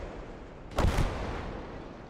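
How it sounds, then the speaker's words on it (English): Incendiary grenades burst in the World War II game Gates of Hell: Ostfront, a single loud, heavy blast-like thud standing out briefly over a steady roar of battle background. "Incendiary grenades flying in."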